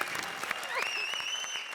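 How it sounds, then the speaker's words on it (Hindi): A TV comedy show studio audience breaks into strong applause, a dense, steady clatter of many hands. A rising, whistle-like tone cuts through partway and holds above the clapping. "जोरदार तालियां जरा अर्चना जी के लिए"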